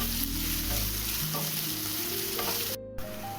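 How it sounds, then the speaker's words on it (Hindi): Onions frying in a pan for a Bihari-style matar paneer, a steady close sizzle with occasional stirring scrapes and a brief clatter near the end. "तो चलिए अभी प्याज को अच्छे से भूनने देते हैं।"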